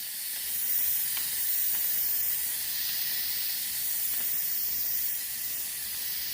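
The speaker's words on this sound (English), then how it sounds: "now I'm going to just press this button. It's going to release the pressure" A pressure cooker vents steam in a steady, loud hiss that holds without a break, its rush swelling slightly and settling while no one speaks.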